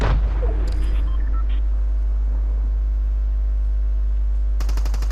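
Game gunfire from players battling in Fortnite crackles as a burst of rapid shots at the start, followed by scattered distant pops and another sharp burst at the end, over a steady low game hum without talk.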